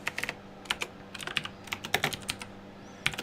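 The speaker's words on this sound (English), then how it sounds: "Let me type this in down here." Quick bursts of computer keyboard typing, clusters of crisp key clicks separated by short pauses, close and clear with no talking.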